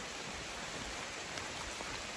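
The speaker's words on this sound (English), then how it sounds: "Oh, it's raining." Light rain patters steadily on a mountain trail on Bromley Mountain along the Appalachian Trail, an even, continuous hiss with no voices.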